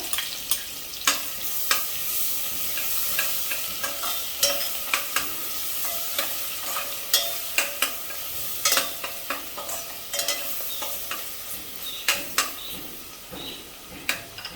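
A paste of ginger, garlic, green chilies and coriander sizzles in oil alongside whole spices, while a spoon scrapes and taps the pan in frequent sharp strokes over a continuous frying hiss, with no talking.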